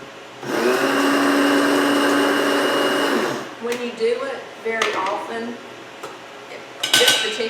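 A coffee grinder grinds wheat berries into flour for bread, a loud steady whirring for about three seconds, followed by clinks, taps and shuffling of the grinder and kitchenware, with some speech mixed in.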